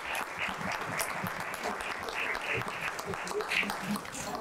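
An audience at a ward address event applauds with a steady patter of clapping that carries through the whole moment, while voices talk over it.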